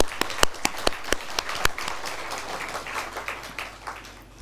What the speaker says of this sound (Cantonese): 我哋都用掌聲嚟到歡迎你下